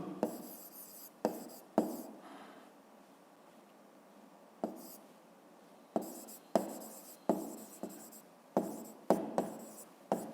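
Pen writing a physics solution on paper, with bursts of scratchy strokes separated by short pauses, close and fairly quiet, with no talking.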